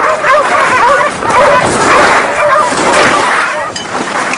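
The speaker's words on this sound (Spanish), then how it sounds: "La única esperanza de Nome eran los trineos de perros." Sled dogs in Alaska bark and yip loudly in a chorus, overlapping excited barks and whimpers continuing steadily throughout, with possible voices mixed into the din.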